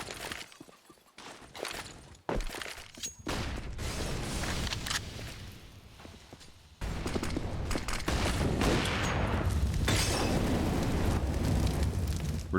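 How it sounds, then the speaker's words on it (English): Grenades thrown during a Counter-Strike match on Inferno, with repeated sharp bursts and blasts in a busy stretch of game audio, growing into sustained loud noise in the second half. "A couple of nades to the top of Banana for Fate."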